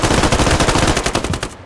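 Rapid automatic gunfire from a military video game in a 20-versus-20 infantry skirmish, loud and close, with dense repeated bursts firing nonstop for under two seconds.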